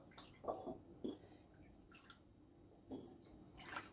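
Potatoes are rinsed in water, giving faint, scattered splashes and drips with a few brighter sloshes spaced over a few seconds in a quiet room.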